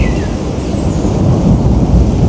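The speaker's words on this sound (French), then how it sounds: "il pleut de fou là en fait" Heavy rain pours down loudly and steadily outdoors with a deep rumble of thunder beneath it, close and continuous, with no voices.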